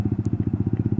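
Close, throbbing pulse of a Yamaha motorcycle engine while riding, its rapid regular beats filling the short stretch of sound.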